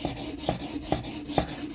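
Dovo inox straight razor rubbed over 4000 grit sandpaper, a close rhythmic rasp of back-and-forth strokes with about four sharp scraping passes, one roughly every half second.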